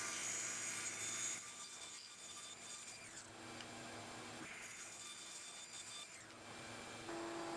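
Dried wood glue being chipped and scraped off a crosscut sled built for a table saw, giving a steady close-up rasping and scraping texture with short pauses and no talking.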